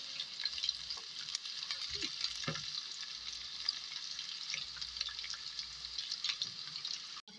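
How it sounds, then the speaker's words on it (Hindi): Onions sizzle steadily in a hot pan for aloo palak gosht, a continuous close frying hiss with occasional stirring scrapes and no voices. "इसे हम गोल्डन फ्राई कर लेते हैं।"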